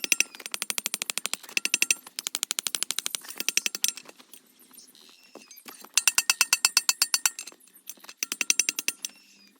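Rapid bursts of hammer blows pound the hot end of a steel bar to upset it, quick rattling strikes in several runs separated by short quiet pauses, close and ringing.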